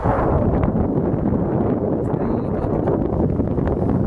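Strong wind on a beach on Tidung Island, Indonesia, buffets the microphone in a constant roaring rush, with no voices, steady and loud throughout.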